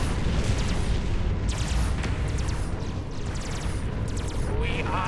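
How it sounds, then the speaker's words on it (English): A powerful torpedo blast rumbles through a Sword of the Stars space battle, a dense, sustained booming roar with crackling bursts layered over continuous low-end pounding, loud throughout. "Oh, wow, that's a powerful torpedo."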